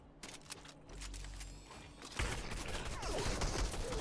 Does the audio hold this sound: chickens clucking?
no